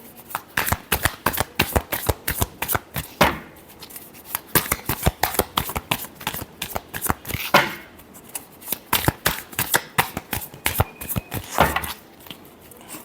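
Tarot cards are shuffled rapidly by hand, a dense flutter of riffles and slaps in quick bursts with brief pauses, close and crisp.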